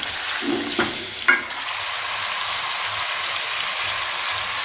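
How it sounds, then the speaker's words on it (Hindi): Camel meat fries in a pot for biryani, a constant dense hiss with a couple of scraping stirs early on, near and steady, no talking. "इसको मैं थोड़ा सा तकरीबन 5-6 मिनट भूनती हूँ"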